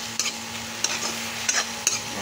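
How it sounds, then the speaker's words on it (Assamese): Roselle leaves wilting in a hot, dry wok with no oil give a soft continuous sizzle, broken by several light scraping strokes of a stirring spatula against the metal. "আৰু এতিয়া পাতখিনি অকণমান গলাই লওঁ ধুনীয়াকৈ"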